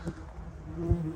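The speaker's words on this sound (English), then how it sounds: "European wasp nest." European wasps buzz steadily around a nest built into the bark of a tree outdoors, a low continuous insect drone with a brief louder pass near the end.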